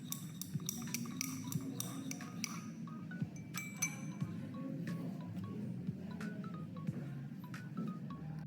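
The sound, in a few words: stirring a salt solution in a glass beaker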